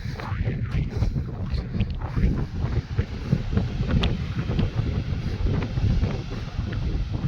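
Strong, steady wind at the seashore buffets the microphone in a continuous roar, with gusts rising and falling and no voices.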